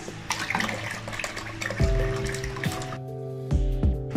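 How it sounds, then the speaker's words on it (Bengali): Cold water pours into a large basin for making a ripe bael fruit drink, a close splashing gush that fills the bowl, with a rising tone as it fills and a brief pause partway, no voices. "গামলাতে দিয়ে দিচ্ছি ঠান্ডা জল।"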